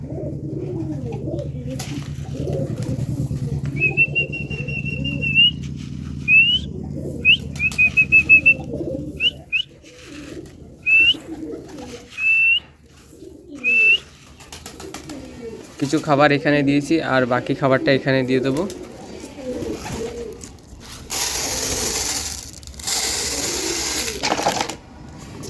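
Domestic pigeons coo softly and repeatedly as they gather at feed in a rooftop loft, with sharp high chirps breaking in and someone talking over much of it.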